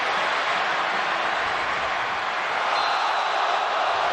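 Large football stadium crowd at a France versus Spain international friendly, reacting whenever Mbappe gets the ball: a dense, continuous roar of distant voices and whistles filling the whole stretch at an even level.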